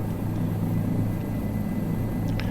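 A helicopter flying in Microsoft Flight Simulator 2020 gives a steady, loud, low rotor and engine drone, constant throughout with no breaks.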